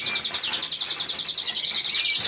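Small birds chirp and tweet in rapid, repeated high calls, a continuous bright trill that runs through the whole stretch at moderate loudness, with no talking.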